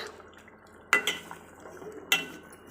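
Spoon scraping and clanking against a pan while four eggs are stirred into Tamil egg gravy, two sharp metallic knocks over a quiet background of soft stirring.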